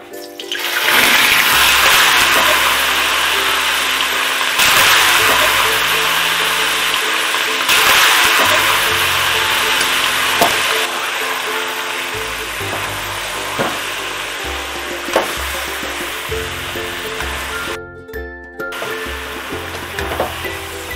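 Chicken pieces fry in hot soybean oil in a kadhai with a loud, steady sizzle and crackle that lasts throughout, with occasional scrapes and stirring knocks and a brief dip near the end.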